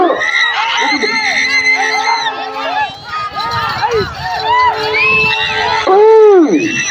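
A large crowd at a match shouts, whoops and cheers loudly and continuously, many voices overlapping close by with sharp yells rising above the din.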